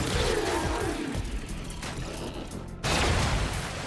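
Shots from the Akarelia pistol ring out in Warframe amid loud, dense combat noise, a steady roar of fire and effects with a sharp renewed burst near the end, no talk.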